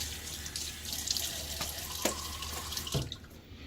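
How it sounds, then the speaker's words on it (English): Steady running water from a tap hisses continuously at close range, with a few faint knocks and splashes. "Water on my face."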